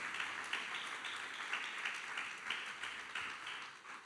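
A church congregation claps steadily in continuous, fairly faint applause for several seconds, with a dense, even patter and no clear voices above it.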